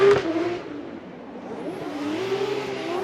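Piotr Wiecek's Nissan Silvia drift car, running Falcon tires, revving through a qualifying run at Formula Drift on the Wall course in 2019: a loud engine note rising and falling in pitch, heard from a distance.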